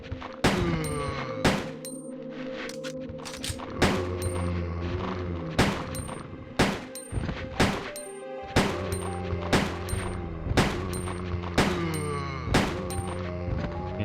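Gunfire from the 1998 Resident Evil 2 video game, loud sharp shots repeating at a steady pace of roughly one per second for the whole stretch, each with a ringing metallic tail, with no talking.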